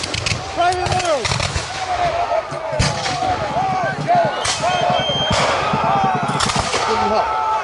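Flintlock musket volleys crack across an open field at an American Revolution reenactment battle, several sharp reports and a ragged burst of fire over steady outdoor noise, with shouting voices throughout.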